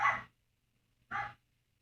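A dog named Delilah barks twice, short loud separate barks about a second apart, close by with silence between them.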